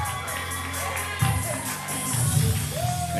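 A wrestling crowd cheers and whoops at a mixed tag team match as the team enters the ring, a dense, steady roar of voices that swells with louder shouts partway through.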